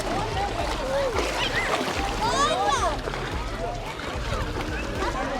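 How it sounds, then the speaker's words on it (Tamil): People swim and splash in water at Kankesanthurai, close choppy sloshes and splatters over a steady wash, with voices talking and shouting throughout. "உள்ளே வந்து நாங்கள் நீந்த போகிறோம்"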